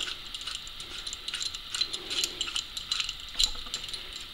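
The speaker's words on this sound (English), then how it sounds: "Now I'm just going to take these and put them in my 5C collet block" Small metal parts clink and rattle as they are set into a 5C collet block in a machine shop, a series of light, close taps and jangles of varying loudness.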